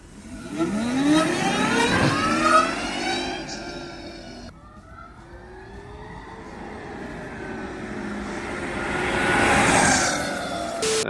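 A 2024 Zero DSR electric motorcycle on the move, its motor whine sweeping up and down in pitch over steady road and wind rush, swelling again toward the end.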